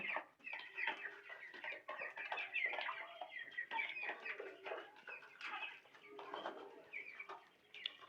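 Broiler chickens on a poultry farm, many of them weak and sitting huddled in the cold, give soft, continuous clucks and coos at a low, close level.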